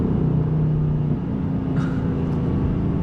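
A 2024 Mustang GT S650 accelerating while holding its gears, a loud, steady engine roar heard from inside the car, with a brief dip and shift partway through.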